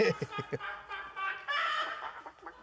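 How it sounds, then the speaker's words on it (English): Chickens cluck in a scene from the film Repo Man, a run of short, near clucks with chattering, squawking bursts over a quiet background. "Love the chicken sounds."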